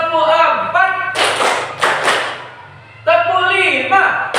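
A classroom of students claps together in a quick rhythmic pattern on a teacher's cue, with sharp, loud bursts of massed hand claps alternating with a teacher's voice speaking in between.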